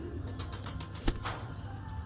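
A pigeon coos softly in the distance against a steady background hum, with a brief bump partway through.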